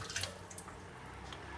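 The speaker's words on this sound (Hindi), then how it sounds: "अब मैं इसके अंदर ये 3 कप पानी डाल दूंगी" Water poured from a cup into a cooking pot holding 1.5 cups of rice for jeera rice, a short close splash and trickle with faint drips, no talking.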